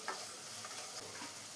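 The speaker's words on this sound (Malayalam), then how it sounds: "ഇതിലേക്ക് അല്പം വേപ്പില കൂടെ ഇപ്പോൾ ചേർത്ത് കൊടുക്കണം." Curry leaves hitting a hot pan of oil for a Kerala-style chicken kurma give off a steady, close sizzle that holds at an even level for the whole moment, with light stirring clicks mixed in.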